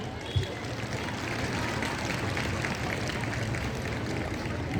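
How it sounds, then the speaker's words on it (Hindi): An audience at a student event claps steadily after a performance, a dense, even wash of applause at moderate volume throughout. "अगर प्रस्तुति पसंद आई हो तो तालियां बजाइए।"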